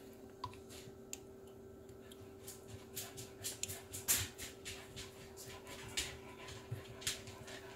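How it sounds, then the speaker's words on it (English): A dog that has just come in from outside pants close by indoors in a kitchen near the stove, with soft rhythmic breaths and a few small clicks over a steady low hum. "If you hear panting, that's my dog, not me."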